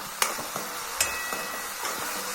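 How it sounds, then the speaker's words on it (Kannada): Green chillies and garlic frying together in hot oil in a pan give a steady sizzle, with a few sharp clinks of a spoon against the pan. "ಮಿರ್ಚಿ ಮತ್ತು ಬೆಳ್ಳುಳ್ಳಿ 2 ಸೇರಿಸಿ ಒಟ್ಟಿಗೆ ಫ್ರೈ ಮಾಡ್ಕೋಬೇಕು"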